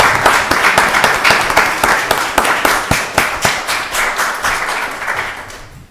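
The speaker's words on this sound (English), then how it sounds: "Let's give her family a round of applause." A small group at a county board of commissioners meeting claps nearby, the individual claps loud and distinct in a fairly quick rhythm before tapering off at the end.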